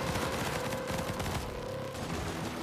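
Laser weapons on a War Robots game mech firing in rapid, dense bursts, a loud continuous barrage of zapping shots with no talk over it.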